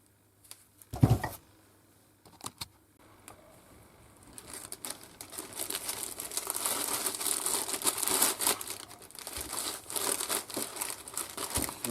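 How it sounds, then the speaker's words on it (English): Small disassembled car parts such as brake pads and pins being bagged up, with sharp crinkling and rustling of a plastic bag, a few isolated crackles first, then sustained close rustling. "So I'll bag them up and we'll get them in the ultrasonic cleaner"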